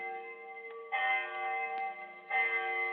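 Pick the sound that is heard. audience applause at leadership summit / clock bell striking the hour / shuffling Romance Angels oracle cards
clock bell striking the hour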